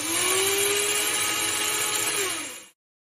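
A bone grinder runs steadily for a few seconds, grinding bone for an autologous graft. It is a close, even whirring motor hum that stops abruptly near the end.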